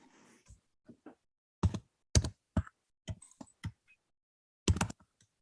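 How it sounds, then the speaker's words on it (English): Keys on a computer keyboard are tapped in short irregular bursts, close and fairly clear, with quiet gaps between the clicks. "let me type this answer here"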